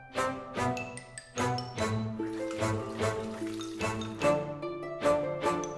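Water splashes and drips in a busy kitchen as beef offal is rinsed clean before braising, with bright, repeated tinkling splashes in uneven bursts.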